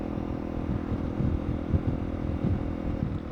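Honda CRF300L dual sport motorcycle with a modified exhaust, riding at steady speed: a continuous low engine drone with small throttle swells and wind rumble, fairly loud and close.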